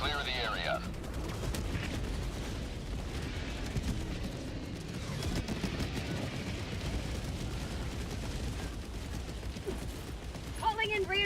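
An orbital barrage strike in Helldivers 2 pounds down as dense, continuous rumbling explosions and gunfire, loud and sustained throughout.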